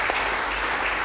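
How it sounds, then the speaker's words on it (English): A live audience applauding, a dense, even wash of clapping from a crowd, loud and continuous throughout the brief moment. "Round of applause for that."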